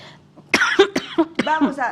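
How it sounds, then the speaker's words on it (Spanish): A few sharp, loud coughs in quick succession, close to the listener, with a throat-clearing quality and no talking. "vamos a toser y no pasa nada si tosemos fuerte"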